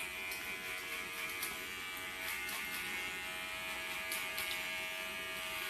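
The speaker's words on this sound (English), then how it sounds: "So what I'm doing here, I'm doing a clipper over comb" An electric hair clipper buzzes steadily and close while cutting hair clipper-over-comb, with faint clicks and brushing sounds over the hum and no talking.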